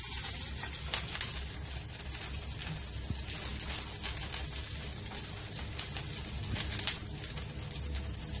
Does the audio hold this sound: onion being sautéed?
yes